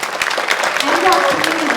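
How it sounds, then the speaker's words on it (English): Audience applause for the parents at a spring chorus concert, a steady wash of many hands clapping with voices mixed in partway through. "So round of applause for the parents"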